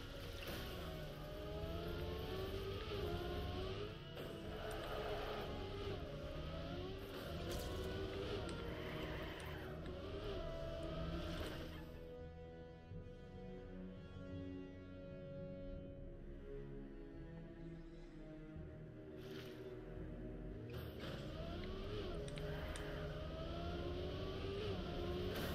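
Racing car engines in a sim racing game as one car overtakes another, a steady droning whine with rising and falling pitch sweeps, dipping in the middle before the revs return, at low level.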